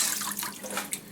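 Tap water runs over freshly harvested Swiss chard being rinsed at a sink, a close, steady splashing stream that varies a little as the leaves move under it.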